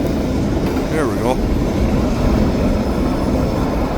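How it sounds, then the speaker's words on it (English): Railroad cars being switched and coupled in a rail yard, heard as a steady loud rumble of rolling cars with a brief squeal of wheels early on, continuous and close throughout. "They're just throwing in the cars now."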